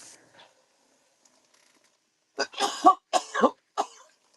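A few short, harsh coughs come in a quick cluster after a quiet stretch, close and fairly loud.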